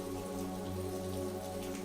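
Rain patters steadily over a park, a soft wash of drops under a low, sustained musical drone, faint and even with no voices.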